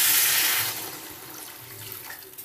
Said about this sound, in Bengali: আমি এবার দিয়ে দেবো পরিমাণ মতন জল।